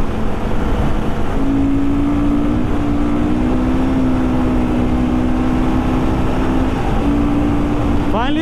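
Royal Enfield Guerrilla 450 motorcycle engine running in sixth gear at high speed on the road, a steady loud drone with a sustained tone buried under heavy wind blast for the whole stretch.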